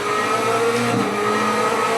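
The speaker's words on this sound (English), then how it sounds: "As I accelerate, I can feel the car." Race car in a sim racing game played on a Fanatec CSL Elite wheel base, its engine droning and revving steadily through the whole stretch, loud and close with a faint tire squeal hint.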